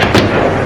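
An army grenade launcher fires at a hideout in Kishtwar, a single loud, brief blast that fills the clip with a heavy thump and a broad crackling burst.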